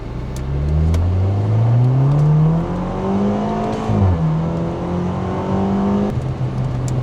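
A BMW 316i F30 with an MST air intake accelerates hard from a rolling launch in first gear, its engine note climbing steadily, dipping at a gear change near four seconds, then rising again, loud from inside the car with no talk.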